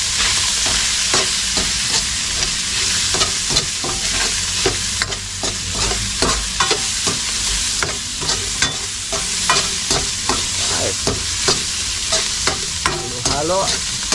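A utensil stirs seasoned food frying in a pan, layering a constant loud sizzle with repeated scraping and clacking strokes against the metal at an uneven pace, close up and without any talk.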